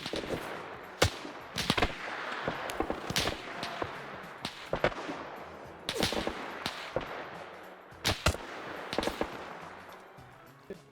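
Gunfire rings out in a military video game on the Raate Road, with sharp, close single shots and short bursts at irregular intervals over a busy battlefield background.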